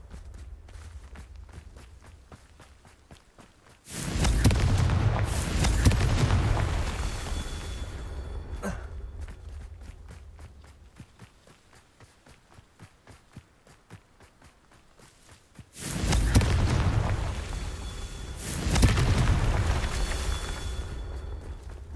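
Two loud bursts of the Confringo blasting curse in the video game Hogwarts Legacy during Merlin trials, each a rumbling explosion lasting a few seconds, set apart by quieter stretches of ambient noise.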